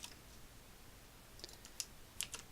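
Faint, scattered clicks of a computer keyboard as code is typed for a Unity game script, a few soft keystrokes over low room hiss.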